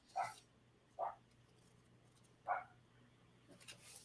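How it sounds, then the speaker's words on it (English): A small, angry dog barks outside in three short, separate yaps spaced a second or so apart, moderately distant, followed by faint scuffling. "That is a serious angry little dog."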